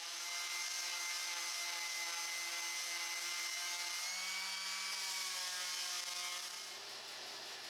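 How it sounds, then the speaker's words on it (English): A palm sander grinds away traces of epoxy on the surface of a wooden limb, a steady, loud, bright buzzing hiss that runs without break and eases slightly near the end. "the little bit of epoxy on the surfaces of the limb is sanded off with a palm sander"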